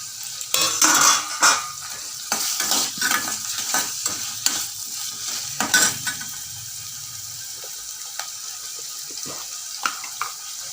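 Ginger garlic paste frying in a pan for spicy paneer gravy, soft sizzling broken by repeated spoon stirs and scrapes, close and with no talk.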